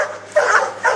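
A dog gives two short, close yipping barks in quick succession within about a second, with no voices over them.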